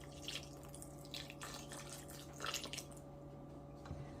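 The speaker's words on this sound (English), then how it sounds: "I'm going to put just a little bit more broth in it." Broth poured into a pan in short bursts, soft splashing and trickling pulses with brief pauses between, quiet and close over a faint steady hum.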